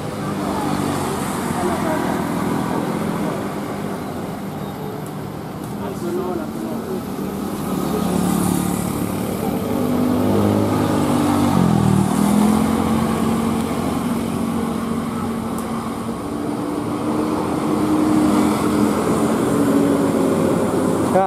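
An Isuzu Elf minibus and a Budiman bus pass along a road near Bogor's Bubulak terminal, engine rumble and road noise swelling and fading as they go by, with steady traffic background.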